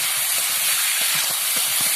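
A ground spice paste of cumin, coriander and green chilli fries in hot oil, giving a loud, continuous steamy sizzle and hiss with faint bubbling pops beneath, steady for the whole moment.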